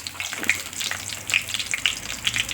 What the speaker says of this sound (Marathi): तर तेल गरम व्हायला ठेवलं आहे कढईमध्ये आणि जिरे टाकले कढीपत्ता टाकला